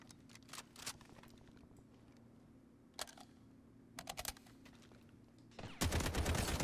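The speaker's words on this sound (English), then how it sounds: "They're shooting out here." Distant gunfire pops in scattered shots and short bursts during a Delta Force Hawk Ops extraction match, with keyboard clicks nearby and a louder rushing noise at the end.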